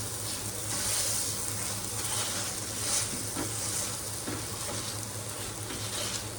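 Crushing tomato and green chilies with a metal pot on a hot griddle makes a continuous nearby sizzle, with rhythmic grinding and scraping strokes running through it and no voices.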